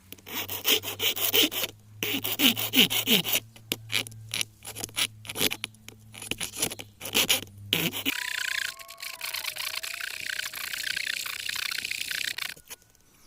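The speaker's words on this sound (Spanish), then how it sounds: "Entonces esto lo voy a limar con esto para aplanarlo." A metal spoon is filed flat with a hand file in rapid rasping strokes, loud and close, giving way to quieter scraping and a faint whine in the latter part.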